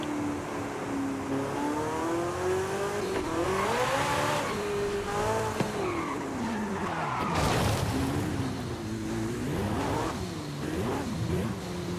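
A race car in Forza Horizon 5 drives hard along a highway, its engine revving and rising through the gears with repeated upshifts and pitch sweeps, loud and continuous with tyre noise.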